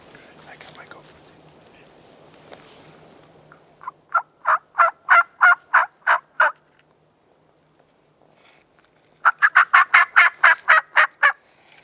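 A wild turkey tom gobbles twice from backwoods mountain country in Washington in spring, each gobble a loud run of rapid rattling notes separated by a pause, with faint low murmuring and rustle at the start.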